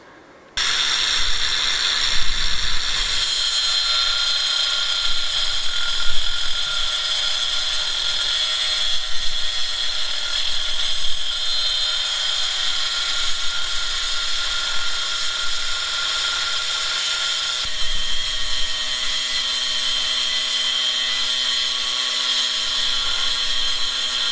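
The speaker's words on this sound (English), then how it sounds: "I found using the little angle grinder with a diamond disc in gives less breakages." Small angle grinder fitted with a diamond disc cutting reclaimed marble, a loud continuous high whine that holds steady for over twenty seconds after a sudden start, with slight changes in load as it bites.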